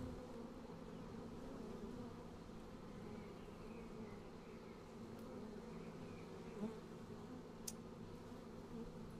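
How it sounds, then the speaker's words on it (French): Bees buzz steadily throughout in the video game Sumatra: Fate of Yandi, a dense, continuous insect drone at moderate level with no talking over it. "Allez les abeilles!"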